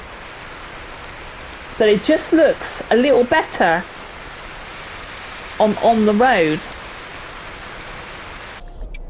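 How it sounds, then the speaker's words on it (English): Loud in-game rain from Heavy Cargo Truck Simulator hisses steadily as a broad, even wash throughout, with someone talking over it in two bursts. "oh, that rain's loud"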